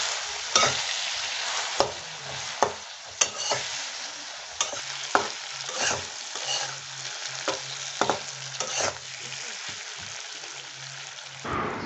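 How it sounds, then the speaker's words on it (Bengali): Pumpkin pieces fry in oil with turmeric, chili, cumin and salt, making a steady sizzle broken by sharp scraping stirs at irregular intervals, close up, with a low hum underneath and a voice talking at moments. "আগে থেকে কেটে রাখা মিষ্টি কুমড়োগুলিকে তেলের মধ্যে দিয়ে সামান্য পরিমাণ হলুদ, সামান্য পরিমাণ মরিচ, সামান্য পরিমাণ জিরা এবং সামান্য পরিমাণ নুন দিয়ে ভেজে নিতে হবে"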